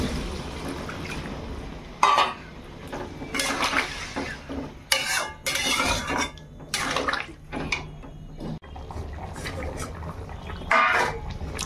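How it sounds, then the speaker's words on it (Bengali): Water poured into spiced rohu fish curry masala in a pan, bursts of splashing and bubbling with clattering spoon and pot knocks, loud and close, some muffled talk around. "এবার জল দিয়ে দেবো।"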